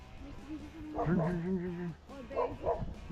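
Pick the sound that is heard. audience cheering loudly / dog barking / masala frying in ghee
dog barking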